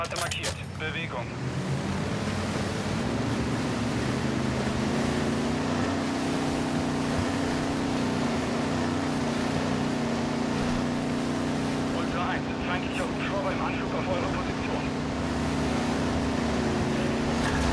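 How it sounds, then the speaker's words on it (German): Armored cargo boat engine in the video game Call of Duty: Modern Warfare 2 DMZ, a steady low droning hum with water and wind rush running throughout, sounds from game characters breaking in now and then. "Alcatella transportiert Fracht mit einem Panzerboot."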